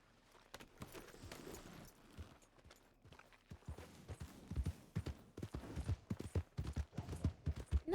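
Horse hooves clip-clopping in the Red Dead roleplay game WildRP, a steady run of hoof strikes that grows louder and closer toward the end, with no talking.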